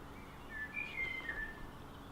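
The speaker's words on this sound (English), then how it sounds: "And you've got the lambs making their noises, and the birds in the trees" Birds sing in trees outdoors on a sunny day, a few faint, thin whistled notes rising briefly over a quiet background hiss.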